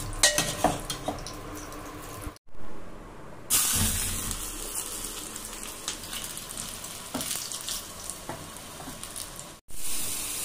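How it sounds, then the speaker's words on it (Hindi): A dal tempering of ghee and spices crackles and sizzles close by, steady frying hiss broken by brief gaps, with faint clinks of a spoon or pan and no talking. "इधर दाल में जो छोंक है वो मैं घी में ही लगाऊंगी"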